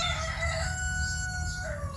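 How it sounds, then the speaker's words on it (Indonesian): Rooster crowing in a long drawn-out call over a low rumbling background, with a second fowl call layered in, fairly close and with no speech. "Suara ayam tadi."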